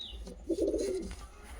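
Two old bloodline pet pigeons give a soft, throaty coo up close, a short rolling call rising briefly over quiet room noise.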